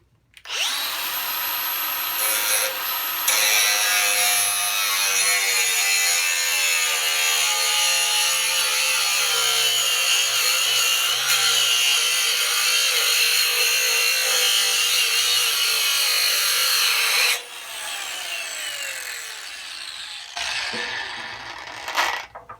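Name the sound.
Milwaukee M18 Fuel brushless angle grinder disc cutting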